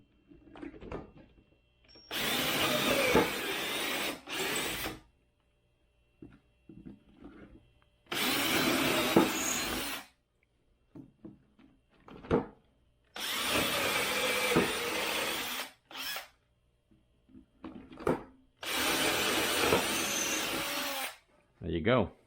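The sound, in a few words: power drill drilling holes with a 1/4 inch bit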